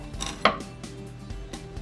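A kitchen knife cuts along the dorsal fin bones of a cutlassfish on a board, giving one sharp close crunch mid-clip amid soft scraping and handling noise.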